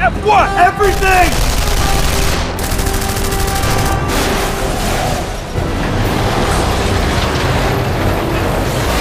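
Dense, continuous gunfire and explosions in the video game Killzone 3, loud and sustained throughout, with shouting voices over the start of the barrage.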